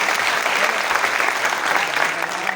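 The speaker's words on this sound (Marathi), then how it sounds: "मित्रांनो, खरंच माझ्या आईवडिलांसाठी एकदा जोरदार टाळ्या झाल्या पाहिजे." Loud, dense audience applause fills a stage event hall in Nanded, steady and continuous clapping throughout.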